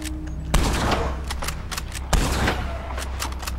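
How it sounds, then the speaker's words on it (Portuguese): Gunfire aimed at a shark in the video game Red Dead Redemption 2, with two loud, close shots about a second and a half apart and quicker, lighter cracks between them over a steady low background. "Os tiros não estão surtindo efeito."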